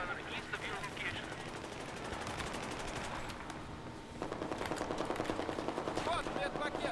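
Rapid machine gun bursts rattle in the video game Battlefield 4, dense and sustained, growing louder and sharper in the second half, with voices talking over the gunfire.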